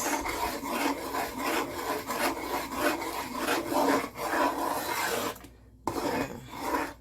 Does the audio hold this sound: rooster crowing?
no